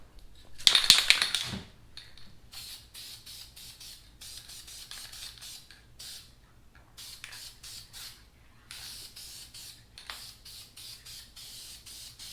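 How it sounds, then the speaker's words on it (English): Clear coat sprayed onto Pontiac Solstice GXP brake parts, heard as one loud aerosol hiss of about a second near the start, followed by quieter intermittent rustling and handling noises. "Now I'm just gonna spray one of the final coats of clear."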